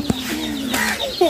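Farm chickens kept alongside ducks, a short burst of loud, close clucking and a rising squawk, with another bird call at the end.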